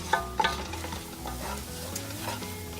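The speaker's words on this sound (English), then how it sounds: "So I'm scraping the bottom" A utensil scrapes and stirs across the bottom of a pan of cooking onions for a French onion casserole, with a couple of sharp clinks at the start, then rough scraping over a gentle sizzle.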